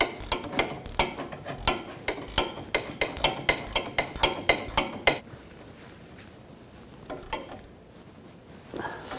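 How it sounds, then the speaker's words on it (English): An 18mm ratchet wrench clicks rapidly in quick bursts while tightening a front sway bar link nut on a 2007-2013 BMW X5, then falls quieter with a few scattered metallic clicks at the end. "I'm going to use the ratchet wrench, 18mm, and then I'm going to use a 5mm hex socket to hold the stud"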